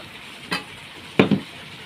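Potatoes frying with spices in a pan give a low background sizzle, broken by one soft scrape and then a sharper double scrape of stirring near the end; close and brief, with no speech.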